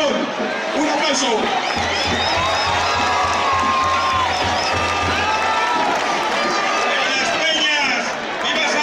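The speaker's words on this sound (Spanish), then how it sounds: "Un aplauso." A festival crowd at the San Luis fiestas opening proclamation applauds and cheers loudly, with whoops and chatter in a sustained roar that stays strong throughout.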